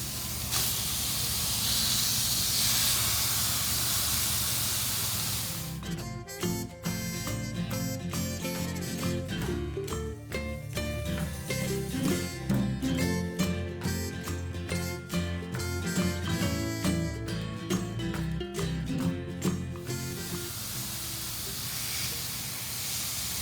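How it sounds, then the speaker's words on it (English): Lamb burgers sear in a very hot pan with a loud, broad hiss at first. Music takes over in the middle, and the sizzle returns alone at the end. "once I've got that in the pan, I'm going to introduce my burgers. I've got this pan good and hot."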